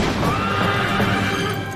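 Wild horses on a mountain, with a loud, sustained whinny filling the moment over a dense background, close and prominent, without any speech.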